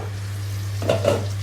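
Spring onion egg curry sizzles steadily in a pan on the stove, a close, continuous frying hiss with a couple of brief stirring scrapes and a low background hum.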